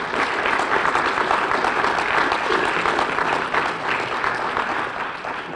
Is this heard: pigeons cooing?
no